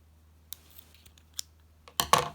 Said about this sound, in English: you're just going to cut a length of your yellow yarn